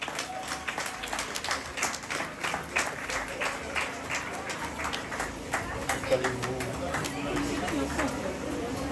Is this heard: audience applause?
yes